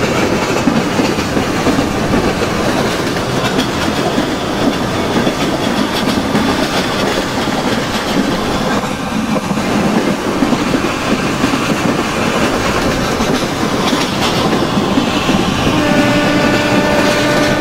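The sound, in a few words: Indian intercity express train running on rails, Open Rails train simulator game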